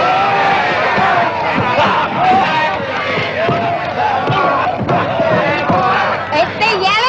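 A crowd shouts and yells without a break around a fistfight, loud and close, with excited voices piling over one another through the whole stretch.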